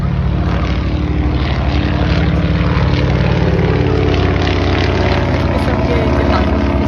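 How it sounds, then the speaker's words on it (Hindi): Small propeller airplanes and helicopters fly at an air show, a loud, continuous droning engine roar that holds steady throughout, with faint voices beneath. "यहाँ छोटे छोटे हेलीकॉप्टर, छोटे छोटे जहाज़ जो हवा में उड़ रहे हैं"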